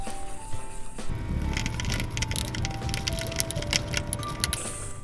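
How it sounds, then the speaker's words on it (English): Batter for cinnamon roll muffins, made with baking soda and lemon juice, is stirred in a bowl, giving steady close scraping and crunchy, clattering strokes for about five seconds with no voices. "And mix it up."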